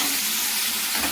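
Chopped ginger and tomato frying in a pan for vegetarian khichuri, giving a close, continuous sizzling hiss for about a second.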